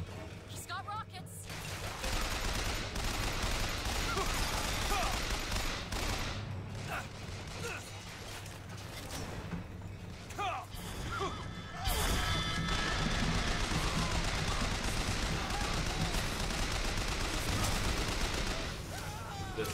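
Continuous heavy combat in BioShock Infinite: dense gunfire and crashing blasts, with rockets among the incoming fire, roar for nearly twenty seconds with barely a pause. A player talks excitedly over the din.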